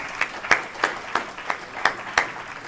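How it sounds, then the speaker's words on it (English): A meeting crowd claps together, producing a short burst of evenly spaced, fairly loud claps. "Let's have a round of applause for you."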